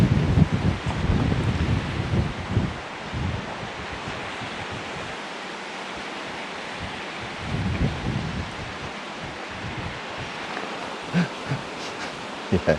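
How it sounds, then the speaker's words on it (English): Gusty wind at Hatton Locks on the Grand Union Canal rumbles against the microphone in uneven bursts, stronger at the start and again midway, with quieter hissing stretches between. "it is quite windy"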